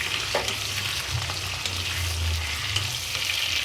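Onion and tomato sautéing in a pan with vadagam for an Andhra-style brinjal curry, a steady close sizzle with soft stirring scrapes throughout, no voices.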